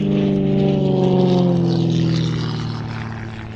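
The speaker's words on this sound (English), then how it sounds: "So I'm not going to display this aeroplane except here at Sywell." Propeller aeroplane flying an aerobatic display at Sywell Airshow 2024: a loud, sustained engine drone that holds steady and then fades over the final second.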